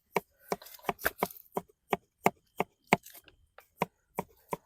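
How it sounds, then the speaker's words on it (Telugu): A knife chops food on the lid of a masala box instead of a cutting board, giving a brisk series of sharp, hollow knocks, loud and close, in an uneven rhythm with short pauses. "మన పవన్ చూడు మసాలా డబ్బా పైన పెట్టుకొని చెక్కలేదని చెప్పేసి మసాలా డబ్బా పైన కట్ చేస్తున్నాడు"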